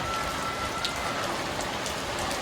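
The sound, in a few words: rain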